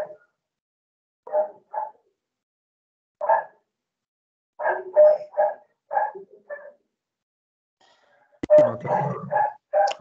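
A dog barks in short, separate bursts heard over a webinar connection, with a tight cluster of barks near the end.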